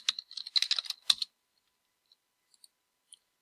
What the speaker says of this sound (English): and type in your name